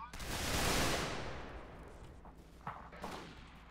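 A musket volley erupts in a Federal Fighting Force Civil War battle game: a loud, broad crackling burst of massed gunfire swells and fades over a second or two, followed by a few scattered single shots.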